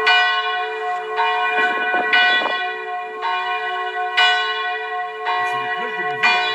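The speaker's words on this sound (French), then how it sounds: "c'est les cloches de mon village, vraiment, qui ont été échantillonnées par mon frère." Sampled village church bells play as a phone ringtone, ringing out clear, sustained strikes about once a second, close by, with a faint voice briefly murmuring underneath.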